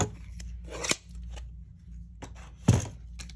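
Scissors make a couple of crisp, close snips while trimming card stock for a handmade card, with quiet pauses between cuts.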